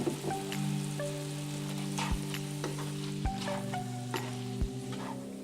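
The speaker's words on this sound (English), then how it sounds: "continue stirring and breaking up the mince a little bit more" Turkey mince with soy sauce being stirred in a pan, a steady sizzle broken by a few sharp scrapes and taps of the utensil, close and fairly quiet, with no talking.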